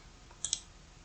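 Two quick mouse clicks, close and crisp, spaced about a tenth of a second apart, activating WordPress maintenance mode on a computer; otherwise quiet.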